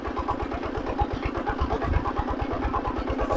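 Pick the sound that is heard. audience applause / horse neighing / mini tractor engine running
mini tractor engine running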